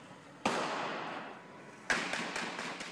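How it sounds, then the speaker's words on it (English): Police gunfire in a street, two sharp loud cracks about a second and a half apart, each trailing off into echo, with a few fainter pops after the second. "Then the heavy gunfire ensues, sparks in the streets, more than a dozen shots."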